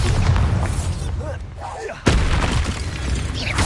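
In the video game Hogwarts Legacy, a Bombarda explosion spell lands as one sharp, booming burst partway through, set against continuous busy game combat noise.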